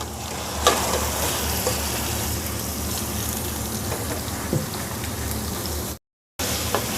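Steady, dense sizzling of ground chicken keema frying in a hot pan with garlic and ginger, loud and continuous, with a brief moment of silence near the end.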